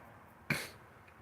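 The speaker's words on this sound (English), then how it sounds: "I'll clear my throat when I want." A single short throat clearing, fairly close, stands out against quiet background hiss.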